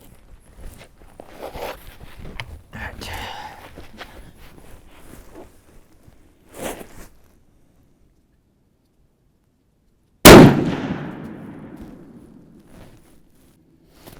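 A single sharp, loud rifle shot from a Mossberg Patriot Predator in 6.5 PRC cracks out and rings off in a long fading tail, following several seconds of quiet rustling and handling noises.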